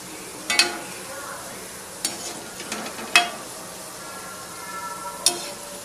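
Madurai-style mutton keema balls frying in a pan, a soft, quiet sizzle broken by a few sharp clinks and scrapes of a utensil stirring them, close by.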